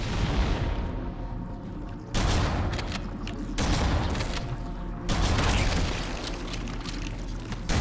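Grenade explosions in Halo CE Anniversary come as three heavy, loud booms at roughly even intervals, each with a rumbling tail, over a continuous bed of rattling gunfire.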